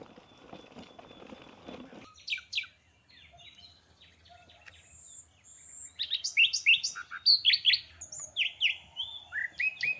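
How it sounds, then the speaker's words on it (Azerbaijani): Nightingales sing in a summer village setting in Göychay; after a few seconds of low background rumble, bright, quick chirping phrases begin and grow busier toward the end, fairly close and clear. "Bülbüllərin səsini eşidirsiniz."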